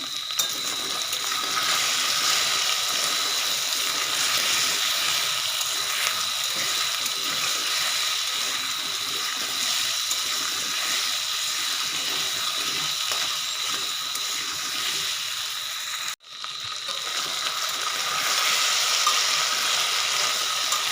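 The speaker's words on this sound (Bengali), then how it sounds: "লবণ আর হলুদ দিয়ে কচুগুলো ভেজে নেব।" Taro pieces fry in hot oil with salt and turmeric, giving a steady, loud sizzle that runs nearly unbroken, with one brief drop partway through.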